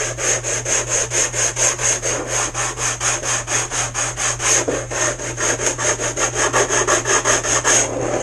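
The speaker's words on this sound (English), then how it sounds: "just chamfer this edge, just like we did the other side" Rapid, even back-and-forth scraping of a file or abrasive chamfering the edge of a delicate model kit part resting on a stable surface. The strokes are close and steady, about four per second, with no talk.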